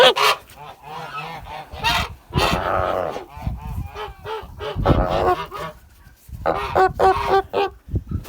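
Domestic geese on a farm honk loudly and close by, repeated harsh nasal calls in irregular bursts mixed with flapping and shuffling over several seconds, with no talking.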